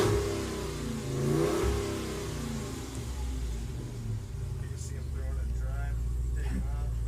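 A Jeep with an active exhaust revs loudly at a truck rodeo in Texas, a deep rumbling engine roar that swells and holds steady for several seconds while people talk nearby.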